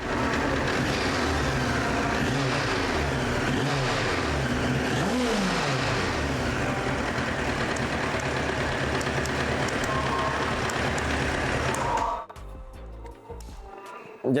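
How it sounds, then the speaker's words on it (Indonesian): A 1996 Honda CBR 919 SC33 sport bike's engine runs loud and close, its revving rising and falling steadily for about twelve seconds before cutting out abruptly into near quiet. "Nah, sekarang kita nyalain motornya."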